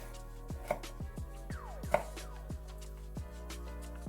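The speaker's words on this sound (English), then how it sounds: "now slicing up this garlic" A knife slices garlic on a cutting board in a steady run of crisp taps, about one every half second, close and fairly quiet, with no talking.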